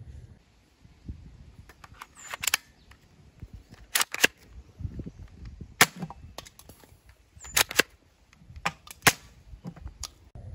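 A toy Cobra Gun M206 cap gun fires several sharp, separate snaps at irregular intervals, close and crisp, with faint handling clicks and rustles in between.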